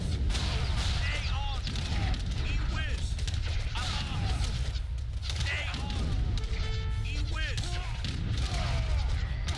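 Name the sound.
cannon fire in video game Age of Empires III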